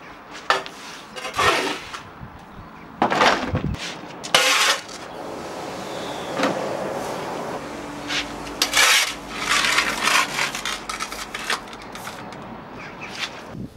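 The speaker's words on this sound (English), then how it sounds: "I'm going to clean as much of the dirt off the patio as I can with a brush before washing it" Brush sweeping dirt off a sandstone patio in bursts of scratchy, bristly strokes, close by, with short pauses and some scraping between them.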